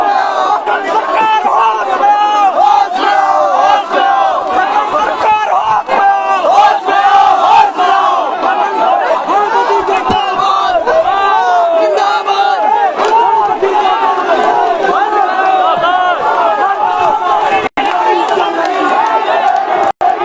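A large crowd at a rally shouts slogans, a loud, continuous mass of voices chanting and yelling together without pause, close and filling the whole stretch.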